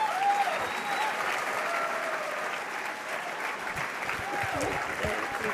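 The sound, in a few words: audience applause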